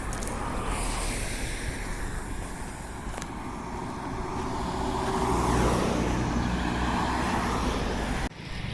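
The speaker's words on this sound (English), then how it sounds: "Here it comes, a B12 hourly bus." B12 hourly bus on route 40 passing by outdoors, a broad road rumble that swells louder as it nears and then drops away, with wind noise throughout.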